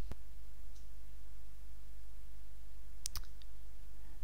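A computer mouse clicks while plugins are installed in WordPress: one sharp click at the start, then a quick pair of clicks a few seconds later over a faint steady hum.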